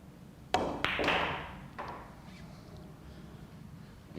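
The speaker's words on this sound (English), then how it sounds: "I can hit the cue ball with a little bit of force off the rail" A cue strikes a cue ball frozen against the pool table rail at the first diamond, a sharp close tap followed by a second knock and softer ball contact, then quiet.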